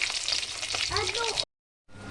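Onion rings fry in oil, sizzling steadily with a bright crackling hiss, broken by a brief silence before the frying resumes.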